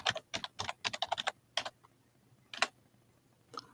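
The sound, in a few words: typing on a computer keyboard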